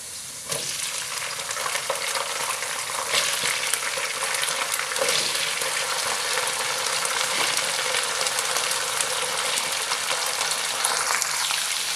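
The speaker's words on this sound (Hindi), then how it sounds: "प्याज लहसुन अच्छी तरह से फ्राई हो चुके हैं, गोभी डालते हैं।" Steady, loud sizzling of cauliflower frying in a hot pan with onion and garlic, with occasional stirring scrapes and no voices.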